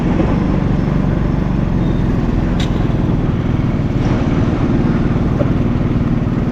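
A Yamaha motorcycle rides very slowly, its engine a steady, unbroken drone heard up close, sputtering low as if close to stalling.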